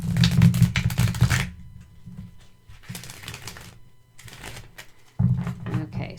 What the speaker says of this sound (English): they did a riffle shuffle very nicely